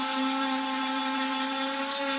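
Steady high-pitched whine of a power sander working end-grain walnut on a cutting board with 80-grit paper, a constant tonal drone with strong harmonics that holds level and fairly loud throughout, no voices.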